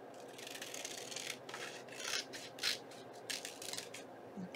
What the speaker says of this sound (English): So simply by trimming it off,